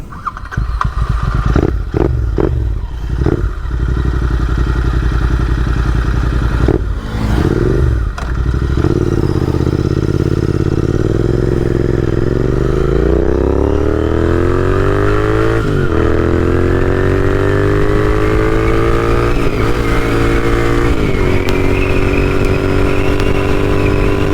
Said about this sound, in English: Let's crank up the Interceptor 650.